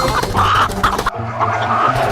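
A game rooster in a cockfighting video game, with loud clucking and crowing bursts over a busy backdrop of game effects, a sharp hit sound midway, then a steady synthetic hum.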